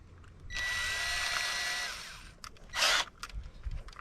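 A power drill drives 2-inch screws into the wooden back of a raccoon-proof gravity deer tube feeder, one steady whirring run of about a second and a half, then a short, louder burst, close by.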